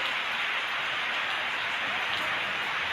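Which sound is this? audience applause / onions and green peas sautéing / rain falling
rain falling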